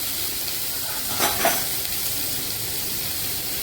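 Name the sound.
onion paste and chopped tomato frying in oil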